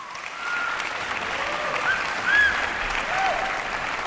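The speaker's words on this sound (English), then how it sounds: "Give them a round of applause." A panel discussion audience applauds steadily at moderate volume, a continuous wash of clapping that swells slightly midway, with faint voices mixed in.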